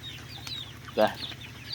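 Chickens in a pen give a few soft clucks with one clearer close call, against a low, steady background hum.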